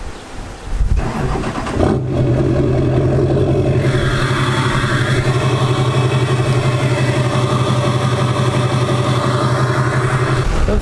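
A Duramax diesel pickup truck engine cranks and fires, then settles into a steady, loud idle recorded outdoors, with a constant low rumble and a windy, hot setting adding background noise.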